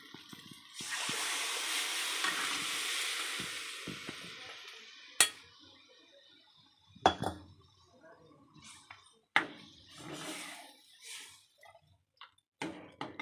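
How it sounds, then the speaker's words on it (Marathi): Mutton pieces go into fried masala in a hot pan, setting off a loud burst of hissing sizzle that fades into softer frying broken by sharp clinks and knocks of a utensil against the pan. "मसाल्यांना चांगलं तेल सुटेपर्यंत परतून घ्यायचे इथं बघा मसाले छान परतलेले आहेत मस्त तेल सुटलेले मसाल्यांना आणि आता हे मटण टाकून घ्यायचं"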